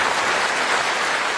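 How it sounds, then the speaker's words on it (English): Steady, dense audience applause fills the moment, a broad wash of many hands clapping at even loudness throughout. "Applause suddenly."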